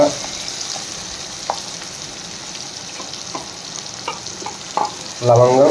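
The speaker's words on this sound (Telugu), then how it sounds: "ఇప్పుడు దీన్ని బాగా మనం ఫ్రై చేసుకోవాలి" Ground paste of onion, tomato, cashew, cinnamon, clove and star anise frying in a pan for an okra and egg curry, a soft continuous sizzle with occasional stirring scrapes and a brief spoken word partway through.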